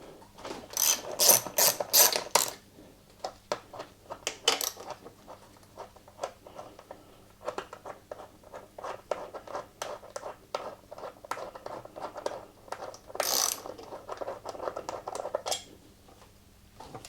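Ratchet wrench removing the top bolts of a Royal Enfield motorcycle airbox, clicking in quick close bursts with short pauses between strokes, fairly quiet and with no talking.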